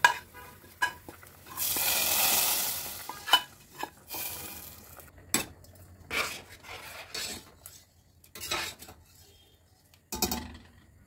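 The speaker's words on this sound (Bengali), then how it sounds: "এখন ফোড়নগুলি দিয়ে দিব ডালের ভেতরে।" Hot whole-cumin spice tempering poured into masoor dal cooked with winter radish gives a loud burst of sizzling and hissing, followed by stirring, scraping and clinks of a spoon against the pot.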